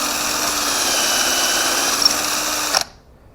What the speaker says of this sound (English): I'm going to go about a third of the way out. This elm is very hard.